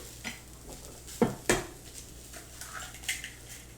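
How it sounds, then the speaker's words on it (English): Eggs cracked into a pan one after another, sharp taps and clacks against the pan edge over a soft background sizzle, a few distinct knocks spread across a few seconds. "So what I do is I usually do 4 eggs. So we'll just crack them right in here."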